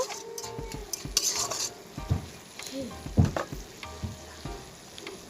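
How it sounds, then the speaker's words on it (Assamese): Chole paneer masala sizzles in a pan after a splash of water, with bursts of hissing, a spoon scraping and stirring, and occasional clinks of metal on the pan, close and moderately loud. "এতিয়া অলপমান পানী দিছো।"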